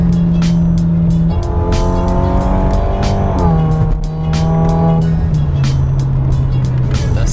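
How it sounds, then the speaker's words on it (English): A loud, close Hyundai Genesis Coupe engine with automatic transmission revs hard through second gear, its pitch climbing steadily, dropping at a shift, then rising again under a rumbling exhaust. "I'll do a second gear pull real quick and go."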